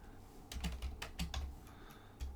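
Typing on a computer keyboard during a Cine2Nerdle movie trivia game, in quick bursts of clicky keystrokes with short pauses between them, close and fairly quiet.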